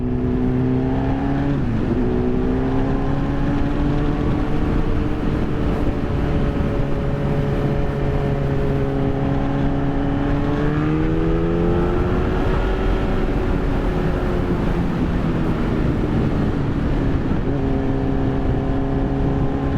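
A Yamaha FZ1N motorcycle engine drones loudly while riding, its pitch rising and falling with throttle changes and gear shifts over a constant wind roar, with no talking.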